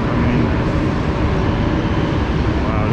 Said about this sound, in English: you can see another train coming in.